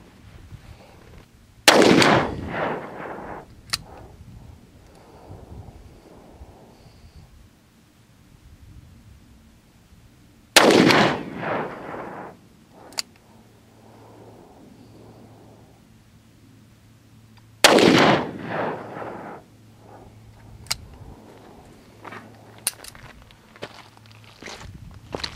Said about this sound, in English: first up is the 300 grain PPU. I'll be firing three rounds.